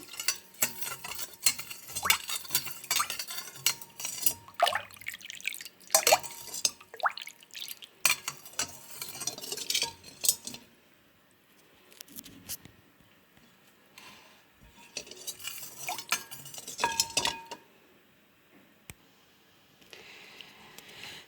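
Vegetable pickles being stirred in a bowl with a utensil, producing repeated wet clinks and scraping in uneven bursts with short pauses, close and fairly quiet.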